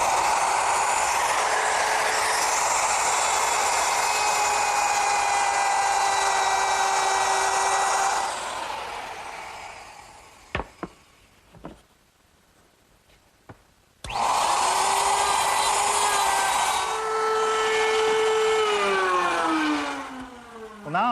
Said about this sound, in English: I've also placed a 3/4 inch dovetailing bit in the router